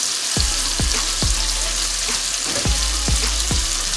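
Sun-dried tomatoes hit a hot pan for penne pesto pasta, giving a steady loud sizzle and frying hiss with several sharp clinks of a utensil against the pan spaced through it.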